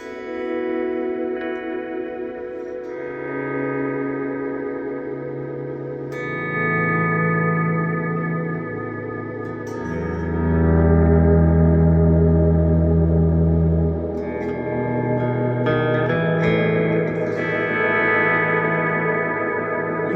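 Electric guitar volume swells bloom slowly through an Electro-Harmonix Deluxe Memory Man delay, soft-attack chords fading in one after another with lush, overlapping echoes and a slight overdriven edge, loud and unbroken by speech.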